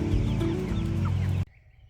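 Backyard chickens clucking in a makeshift coop run, a close, busy cluster of overlapping clucks and calls that cuts off abruptly after about a second and a half, leaving faint background noise.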